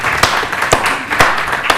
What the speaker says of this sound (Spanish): Un aplauso, señores.